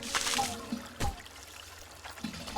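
Water running through a water valve in the mining game Hydroneer, a faint trickling flow broken by a few short splashy bursts, heard alone and close.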